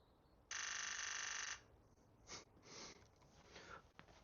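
A Nikon Z8 plays a simulated shutter effect while shooting a silent 120 fps burst. It gives one continuous, bright, buzzing rattle lasting about a second, followed by a few faint rustles and handling noises.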